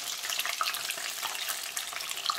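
Rice pudding croquettes frying in sunflower oil give off a steady, close crackling sizzle with dense bright pops throughout and no talk.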